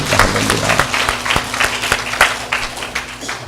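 A church congregation gives a round of applause of praise during a Sunday service, many hands clapping loudly and fairly close, with a sustained organ or keyboard tone held underneath the clapping.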